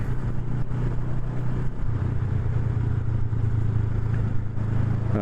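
A Honda Rebel 500 motorcycle engine runs steadily close by with a low, throbbing hum and a slight lift in revs partway through, with no talking over it.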